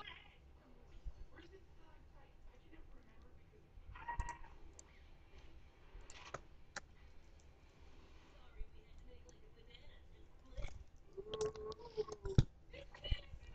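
Mouse clicks while placing a building in the strategy game Total Domination: a few sharp, isolated clicks spread across the stretch, over a faint low murmur of voice.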